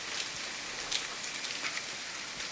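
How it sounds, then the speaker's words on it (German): Steady rain in the survival video game The Forest, a soft continuous hiss of falling drops with a few brighter spatters, fairly quiet and heard alone without talk. "Der Regen."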